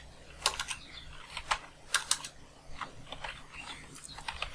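Someone types on a computer keyboard while writing HTML code, a close run of quick key clicks in short uneven bursts, with a few louder taps standing out over a low background hum.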